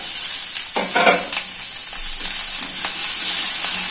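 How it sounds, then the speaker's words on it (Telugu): Red chillies fry with urad dal in a hot pan, a constant bright sizzle with stirring scrapes and crackles, loud and close, with no voices. "ఈ టైంలో మిరపకాయలు వేయాలండి"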